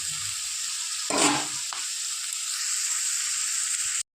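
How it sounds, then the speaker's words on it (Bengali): Onions fry lightly in hot oil for an eggplant and fish dish, a strong, even sizzle holding steady, broken by one brief rush of louder crackling and a small clink before it cuts off abruptly. "পেঁয়াজটা হালকা একটু ভেজে নেব"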